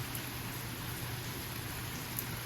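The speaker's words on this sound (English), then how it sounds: "it's a little bit of rain" A soft, steady hiss of light rain pattering on surfaces during Hurricane Hilary, even and continuous with no voices.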